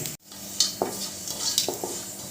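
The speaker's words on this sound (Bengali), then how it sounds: "এবার কালো জিরাটা একটু ভালো করে ভেজে নেবো" Black cumin seeds fry in hot mustard oil in a wok, a soft steady sizzle broken by several light clinks and scrapes from stirring.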